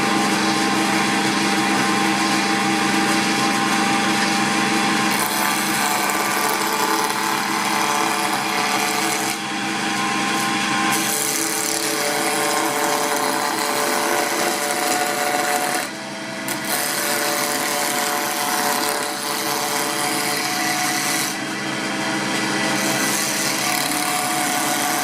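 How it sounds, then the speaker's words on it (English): A wood lathe spins while spindles for an hourglass are turned round; a continuous loud, bright cutting hiss and whir carries on nearly unbroken, with a few brief dips as the tool lifts, and no talk. "let's put it on the lathe and we'll get to it. Okay, so the first job is to get all these spindles rounded out"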